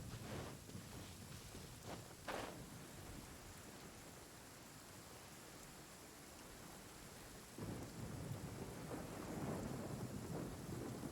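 Steady rain with rolling thunder in the Genshin Impact video game, a continuous hiss of downpour with a louder thunder rumble near the start and another swell toward the end, no voices.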